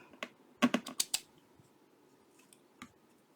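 Scissors trim paper for a handmade box craft: a quick cluster of crisp snips, then a few scattered clicks, close and quiet in an otherwise still room.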